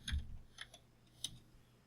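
A few soft, sparse keystrokes on a computer keyboard at a CentOS machine's console, three quiet clicks spaced irregularly with faint background hum between them.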